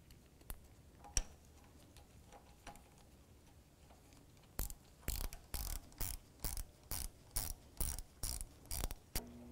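A ratchet turning a 10 mm socket tightens a radiator bolt on a 2001–2007 Volvo V70, starting with quiet sparse ticks and then moving to a clear, close run of evenly spaced clicking bursts, with no talk.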